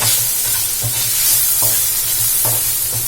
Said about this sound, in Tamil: இது எல்லாத்தையும் நல்லா மிக்ஸ் பண்ணிடலாம்.